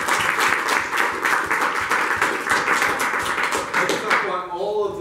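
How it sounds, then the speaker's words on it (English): Audience applause at a cloud-computing tech event, steady broadband clapping from a large crowd filling the room, fading out near the end as a voice starts talking. "Big round of applause for all of you."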